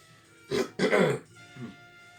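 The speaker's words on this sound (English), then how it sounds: "coffee, clear your throat." Someone clears their throat twice in quick, raspy bursts, followed by a softer third grunt, close and isolated with no talking.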